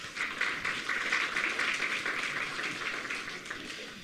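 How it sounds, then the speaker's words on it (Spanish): A church congregation at a Sunday service applauds the Nueva Alegría choir with steady, dense clapping that holds at an even level throughout, heard from within the room with no voices over it. "vamos a dar fuertes aplausos"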